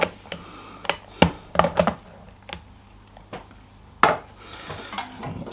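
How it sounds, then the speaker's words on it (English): A lid lifted off a Ninja soup maker holding pumpkin soup, a series of sharp plastic and metal clacks and clinks, close and fairly loud, with quiet gaps between. "Okay, let's take the lid off."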